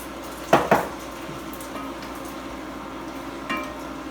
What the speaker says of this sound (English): Okay, stir that up, Torrance.